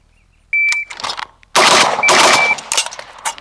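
A shot timer beep followed by rapid rifle fire from a WASR 10/63 at a Heavy Irons competition, several loud, close shots in quick succession with a second beep during the string.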